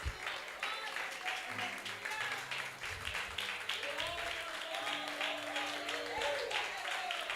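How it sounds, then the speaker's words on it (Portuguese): A church congregation claps for Jesus, sustained applause at steady loudness with a murmuring crowd and voices mixed in beneath the clapping. "Bata palmas para Jesus."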